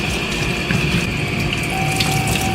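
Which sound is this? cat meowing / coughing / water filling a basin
water filling a basin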